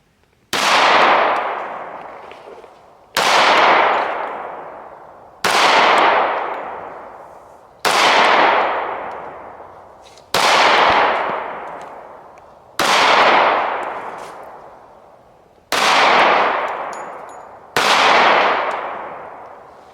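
Eight loud, sharp gunshots from a Dan Wesson ECP .45 pistol, fired one at a time at a slow, steady pace about every two and a half seconds, each crack followed by a long outdoor echo that fades before the next.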